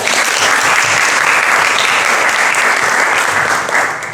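A classroom of students applauds steadily, dense clapping holding loud and even throughout before tapering slightly at the end, with no talk over it.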